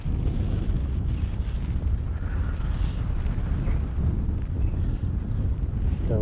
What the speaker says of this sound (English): Comes my wind back.